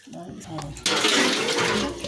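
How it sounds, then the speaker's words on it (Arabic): Water pours into a jar of pickled olives being made at home with salt and lemon, starting as a faint trickle and then becoming a loud, steady splashing gush that lasts to the end. "هنا هنحتاج ميه تاني فهنزود ميه تاني"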